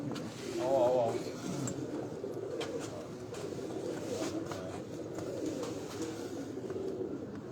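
Pigeons kept by a fancier coo on a rooftop loft, a soft low cooing under background chatter and ambient noise, with one louder coo burst early on.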